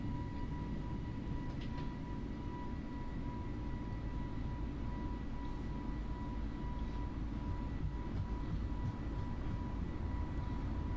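A steady, droning airliner engine roar at takeoff thrust in Microsoft Flight Simulator 2020 holds constant and fairly quiet throughout, a broad low rumble with a faint whine, no voices.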